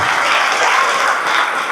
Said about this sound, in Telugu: మీకు మీరే చప్పట్లు కొట్టుకోండి.